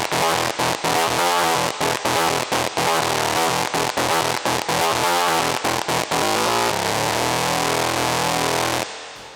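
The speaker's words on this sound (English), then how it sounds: "I'm going to use an Arp Odyssey. Same trick as before," An Arp Odyssey synthesizer run through a Boss HM2 Heavy Metal distortion pedal plays loud, saturated power chords in choppy rhythmic bursts with short gaps, then a final sustained chord that rings out and cuts off, with no talking.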